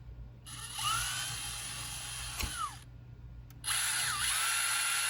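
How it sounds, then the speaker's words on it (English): A small power drill runs with a 5/64 bit boring a hole into plastic, a steady high whine that dips and restarts after a brief pause, loud and close with no talk. "I'm gonna, as straight as I can, I'm gonna drill that"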